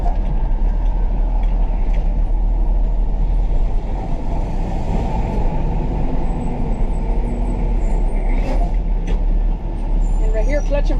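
A truck at a CDL driving school rumbles loudly and steadily throughout, a constant low engine drone with a faint hiss near the end and no break in the noise.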